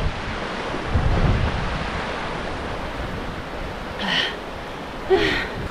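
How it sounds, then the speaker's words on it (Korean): A mountain valley stream flowing through a pine forest campsite at Homyeongsan, heard as a continuous rushing wash of water, close and steady, with a couple of brief high chirps near the end. "계곡 물소리 엄청 시원하네"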